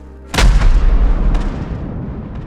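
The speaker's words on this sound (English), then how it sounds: "The Mohawk, with Trav'ler KC, fired the cannon again into the rock to launch the destroyed weapon through the air." A cannon fires into rock in an audio drama scene, a single sudden, loud, close boom followed by a long rumbling decay that fades over about two seconds, with no voices.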